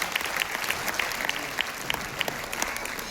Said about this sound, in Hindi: एक बार जोरदार तालियां भाई मेरी प्यारी टीम के लिए।